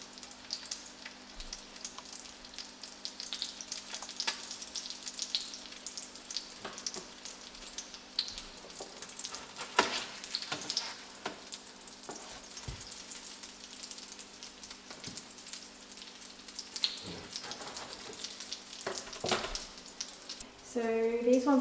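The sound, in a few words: Australian salmon frying in a pan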